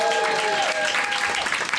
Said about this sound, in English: give me a cheer, all the French people